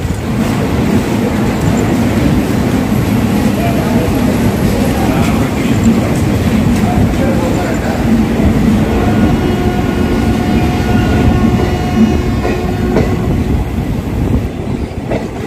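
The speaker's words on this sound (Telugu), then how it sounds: "అనంతపూర్ స్టేషన్ డిపార్చర్ చూడండి" The Kacheguda–Yelahanka Express departs Anantapur station, rolling steadily with continuous rumble and rhythmic rail clatter, loud and close, sustained throughout with faint squeals.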